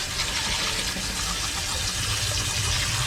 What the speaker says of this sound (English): so to rinse this rice, we're gonna do it in cold water